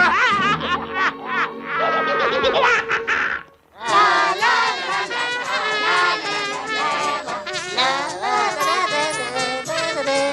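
A small cartoon bird quacks in a loud, rapid stream of squawking, duck-like calls that runs almost without a break, with one short pause near the middle.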